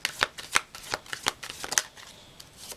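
Tarot cards being shuffled by hand in a run of sharp riffling flutters and soft slaps, close and irregular, fading to quieter handling at the end.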